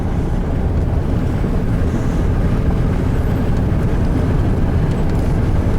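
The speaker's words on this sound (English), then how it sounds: "Yeah, I give it gas and it loses RPM." A 1997 Chevy 1500 4x4 pickup with a plugged fuel filter, engine losing RPM under throttle: a steady, dense, close low rumble for the whole stretch, with no clear rise in revs.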